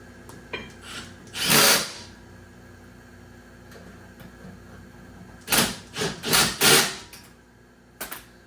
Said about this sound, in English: this was the most powerful 1/4-inch impact driver you could buy